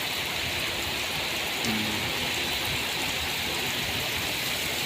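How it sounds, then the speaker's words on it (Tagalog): Heavy rain pours down in a steady, loud hiss, unbroken throughout, with no voices. "ibuhos mo na para pag uwi namin mamaya matila na, wala nang ulan"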